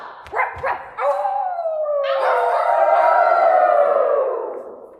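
A dog-like howl rises and sustains for several seconds after a few short yips, loud and close; it sounds like a person imitating a dog.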